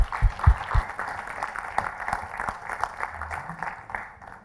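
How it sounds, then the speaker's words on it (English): An audience at a main-stage conference session claps, scattered and fairly quiet applause with a few sharp nearby claps early on before it thins out. "Let's give them a round of applause."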